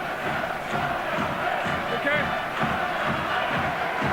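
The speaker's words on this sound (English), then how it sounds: "Listen to this Warrington crowd." Warrington rugby league crowd at a 2002 home match against Leeds, a dense, steady roar of chanting supporters filling the stadium throughout, with a commentator's brief word over it.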